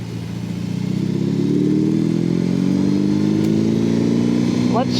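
A new motorcycle engine revs up, its pitch climbing steadily as it accelerates, loud and close, with a brief rattle near the end.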